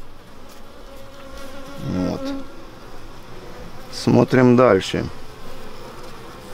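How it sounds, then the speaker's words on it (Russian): A honey bee buzzes around a beekeeper's head at an apiary hive, its whine coming and going close by and swelling loudest for a second or so, while someone talks. "Попалась одна старая пчелка, летает вокруг головы и так и хочет тебя ужалить"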